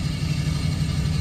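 A car engine, once feared to have failed injectors, idles steadily with a low, even rumble and a faint regular pulse, running alone and close with no talking.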